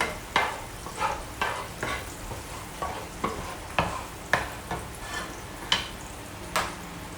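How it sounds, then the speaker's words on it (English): Butter heats and sizzles in a pan for shrimp scampi, a steady close frying hiss broken by regular, sharp scraping strokes roughly every half second, with no talking. "So we're waiting for the butter to heat up again."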